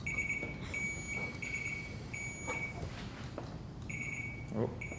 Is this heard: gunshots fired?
no